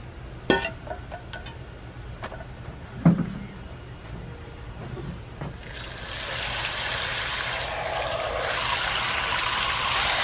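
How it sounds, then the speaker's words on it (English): After a few clinks and knocks, a bucket of rinse water is poured out onto a backyard, a steady, fairly loud splashing rush lasting several seconds. "I literally just gonna dump this water on the backyard"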